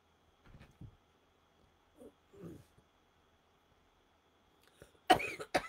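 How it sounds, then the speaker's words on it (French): A single person coughs a few times in a quiet room, short soft bursts spaced apart, then a louder, harsher cough near the end. "je vais recommencer à tousser"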